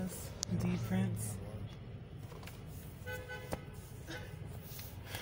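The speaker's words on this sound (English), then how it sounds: "When you hear somebody honk, somebody else honks back." Car horns honking amid New York City street traffic, a couple of short toots standing out near the start over a busy roadside din, with voices talking throughout.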